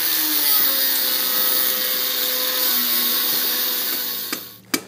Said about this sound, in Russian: Нарезать куски арматуры.